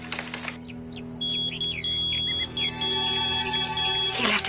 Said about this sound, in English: He left his beeper here.